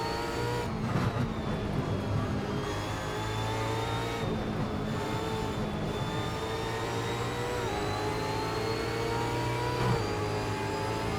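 Loud, continuous V8 Supercar Ford Falcon engine roar in the video game Assetto Corsa at Queensland Raceway, with rising and falling revs and gear shifts, sustained throughout without voices.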